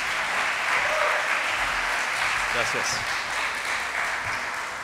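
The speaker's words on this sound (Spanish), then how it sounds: "Un aplauso." An audience at an awards gala ceremony applauds in a steady, dense wash of clapping that fills the room. A voice briefly says something over it.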